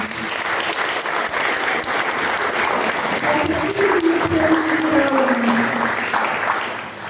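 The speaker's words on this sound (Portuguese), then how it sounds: "Uma salva de palmas para o Senhor." A church congregation claps during a New Year's Eve service, a long dense round of applause with a voice briefly audible in the middle, easing off at the end.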